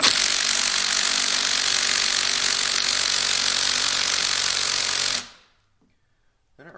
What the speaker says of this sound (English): And we'll grab our 9/16 wrench.